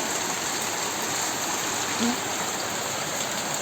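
Heavy rain pours down in a dense, constant hiss, steady and loud throughout with no pauses.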